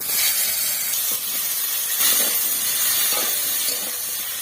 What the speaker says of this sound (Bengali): মাছ ভাজা তেলে এখন আলু ভেজে নেব।